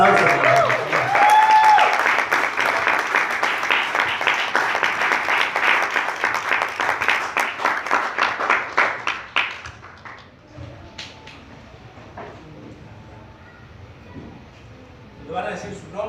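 A church congregation claps together at a Sunday service, dense sustained applause for about ten seconds that fades into scattered claps, with voices murmuring in the room afterward.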